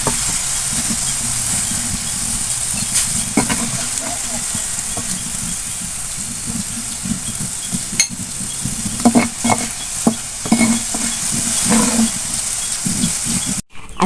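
Chicken meat box pieces frying in hot oil, a steady close sizzle throughout with scattered stirring scrapes and clinks, faint voices in the background.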